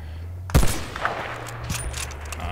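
A single sharp sniper rifle shot in a video game cracks loudly near the start, followed by a few fainter distant reports over a steady low hum.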